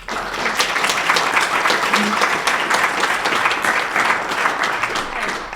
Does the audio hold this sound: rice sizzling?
no